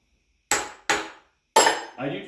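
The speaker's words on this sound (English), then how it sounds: "if they pop out when I'm hitting them with a hammer" Three sharp metallic hammer taps with short gaps between them, followed by a duller knock, close and clear with silence in between, as steel V blocks are seated on a manual milling machine.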